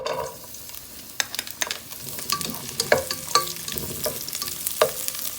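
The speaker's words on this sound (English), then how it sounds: "Then we need to saute our garlic first." Garlic sautés in a couple of tablespoons of cooking oil, a soft steady sizzle broken by sharp clicks and scrapes of a utensil stirring in the pan, close and alone.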